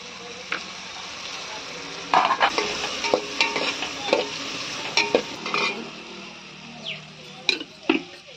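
Green chillies stirred and fried in a pan in a home kitchen, with a steady close sizzle broken by repeated scraping and clattering strokes of the spoon against the pan, no talking.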